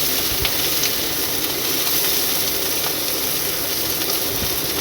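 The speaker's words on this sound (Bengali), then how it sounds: "আর তার আগে আমি একটু ঢেঁড়সগুলো ভেজে নিচ্ছি।" Okra frying in a pan in a Bengali home kitchen, giving a steady, even hiss and sizzle that holds close and constant throughout, with faint clicks and no talking.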